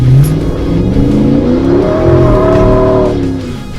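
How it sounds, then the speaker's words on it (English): Jeep Gladiator on 40-inch tires with a Dana 60 axle, loaded with overland gear, pulling away from a dead stop at half throttle; a loud, close engine rev climbs steadily for about three seconds with tire spin before easing off. "that was half throttle out of a dead stop, spinning 40-inch tires with a Dana 60 axle and all his Overland gear in the back"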